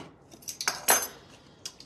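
A utensil scrapes and clinks against a bowl while sour cream and dill are mixed for tzatziki, a few short bright taps and scrapes, fairly close and quiet, with no talking.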